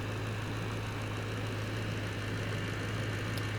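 Steady low hum of a 2007 Maserati Quattroporte's 4.2 liter V8 idling, quiet and even throughout a few seconds, with no voices.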